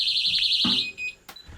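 A Technaxx TX-100 motion detector sensor alarm sounds indoors with a loud, high, warbling electronic tone that cuts off after under a second, followed by a short soft thump and faint room noise.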